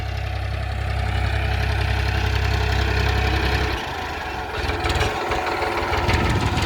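A Farmtrac 30 tractor engine runs steadily with a loud, low, continuous idle rumble that dips briefly midway before resuming, heard alone without talk.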